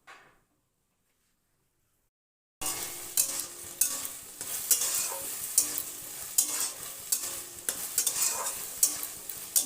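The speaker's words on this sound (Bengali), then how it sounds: "মটরশুঁটি কষানো হয়ে গেছে" Green peas being sautéed in a pan over slightly raised heat: near-silence, then a loud, dense sizzle that starts abruptly, with repeated stirring scrapes and knocks up close.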